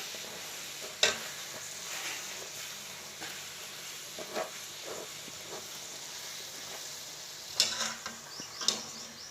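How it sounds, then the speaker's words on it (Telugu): Puri frying in hot oil, a steady faint hiss running throughout with a few sharp clinks of a utensil near the start and toward the end. "పూరి మీద కొంచెం ఆయిల్ వేడి చేసినట్లు ఉంటే పూరి బాగా పొంగుతుంది"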